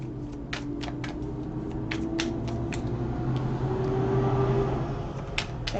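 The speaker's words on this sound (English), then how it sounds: "Sorry about the noise of the traffic." Steady road traffic noise rumbles continuously in the background from start to finish, with faint passing-vehicle swells and scattered light clicks on top, and no talking.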